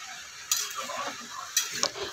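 Bottle gourd curry stirred in a pan, a faint, quiet hiss with two or three brief scraping clinks of the spoon against the metal, close and without speech.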